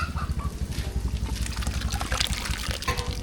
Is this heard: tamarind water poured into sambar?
yes